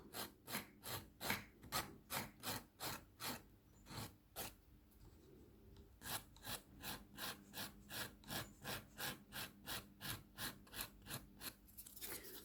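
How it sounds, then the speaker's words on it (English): A nail file rasps over an acrylic nail overlay in steady, rhythmic back-and-forth strokes, quiet and close, with a brief slower pause partway through. "Turn the file over and using the 180 grit side, which is a finer grit."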